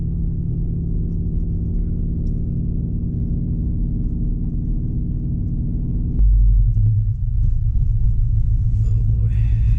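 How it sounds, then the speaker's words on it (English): A car drives through deep snow in a blizzard, a steady heavy low rumble of the underbody pushing through snow that shifts abruptly partway through, continuous and close. "Oh, we're gonna be scraping a lot of snow."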